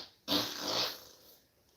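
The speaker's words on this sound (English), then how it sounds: "Let's put a fart in this pretty bottle here." A single drawn-out fart, fairly loud and close, lasts under a second during a comedic cooking show with a live auction of farts in jars. Silence follows, then a brief sharp sound at the very end.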